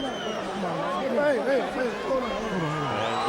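Crowd noise in a boxing arena as the crowd salutes Laila Ali at Mike Tyson vs Kevin McBride in 2005, a steady murmur and cheering beneath close, prominent talk.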